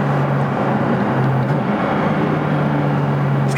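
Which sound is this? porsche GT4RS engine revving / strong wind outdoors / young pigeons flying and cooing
porsche GT4RS engine revving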